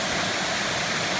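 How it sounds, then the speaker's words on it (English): Mackenzie waterfall in the Grampians, Australia, a loud, close, steady rush of falling water filling the whole moment without pause. "This is the Mackenzie waterfall"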